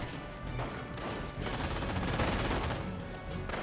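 Dense rifle squad gunfire from a Company of Heroes 1 battle, with rapid overlapping shots crackling continuously for several seconds, loud and close.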